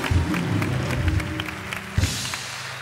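Studio audience applause on a Turkish television talk show, a short dense burst of clapping from a crowd filling the whole moment, fairly close and steady.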